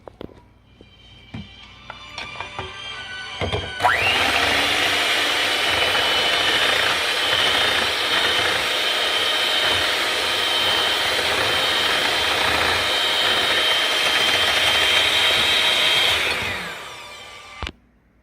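An electric mixer whips cream for mango ice cream, starting up loudly with a steady high whirring drone that runs for about twelve seconds before winding down, preceded by a few clatters.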